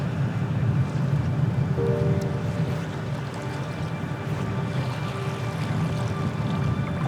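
Wind gusts across open sea water on Islay, with a steady broad roar and low rumble from waves lapping around an angler wading knee-deep in waders while fly fishing from the shore.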